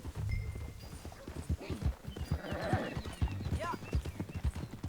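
Horse hooves clip-clop in a steady, close rhythm while riding in Red Dead Redemption 2, with someone talking over the hoofbeats and a brief whinny-like call.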